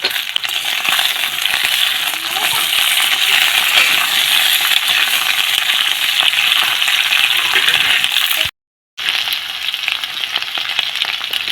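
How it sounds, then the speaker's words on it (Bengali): Beans, peas and eggplant fry in a pan with a loud, continuous sizzle and occasional stirring scrapes, broken by a brief silent gap before the sizzling resumes. "ওর মধ্যে শিম, মটরশুঁটি আর বেগুন দিয়ে খুব ভালোভাবে সব কিছুকে ভেজে নিতে হবে"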